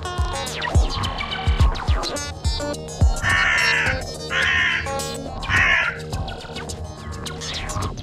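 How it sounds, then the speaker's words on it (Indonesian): Several crows caw noisily in harsh, repeated calls, three loud raspy caws standing out over a busy background of music-like tones. "gagak akan mengeluarkan suara-suara berisik yang menunjukkan bahwa orang itu adalah ancaman"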